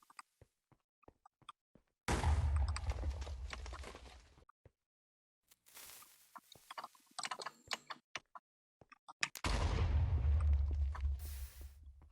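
Minecraft TNT blows up in two loud, sustained blasts with heavy low rumble, set apart by quieter game clicks and ticks, with a busier burst of block noise between them.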